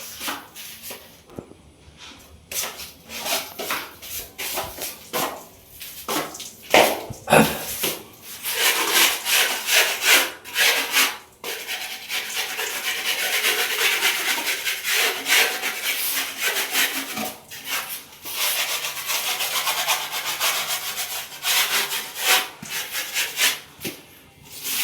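Repeated rough rasping strokes of sanding skim coat plaster on a ceiling, sometimes in quick bursts and sometimes continuous, close by.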